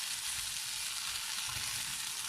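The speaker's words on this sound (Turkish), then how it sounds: "kızartıyoruz" Steady, close sizzling of sucuk frying in a pan, a constant crackling hiss with no talking.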